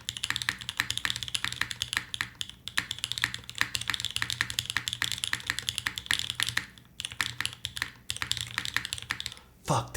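Fast, steady typing on a Singa Kohaku mechanical keyboard fitted with copper inserts, close and crisp keystrokes with a couple of short gaps near the end.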